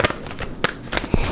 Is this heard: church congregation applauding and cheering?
no